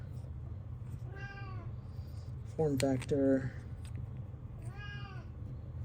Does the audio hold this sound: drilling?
no